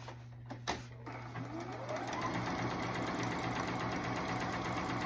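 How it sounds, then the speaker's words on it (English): A sewing machine runs a steady, continuous whir of stitching for several seconds, stay stitching the collar of a denim jacket from McCall's 4385, after a few brief clicks at the start. "then just stay stitching, probably again at about 3/8 of an inch"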